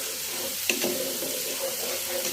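Hilsa fish pieces and spices with turmeric and red chili powder fry in hot oil while being stirred, giving a steady close sizzle with a brief clink of a utensil against the pan.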